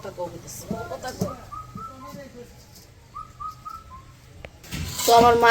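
An Indian cuckoo, the bou-kotha-kao bird, calls outdoors with a few clear whistled phrases of several notes, moderately distant, while people talk nearby and a louder clatter comes in at the end.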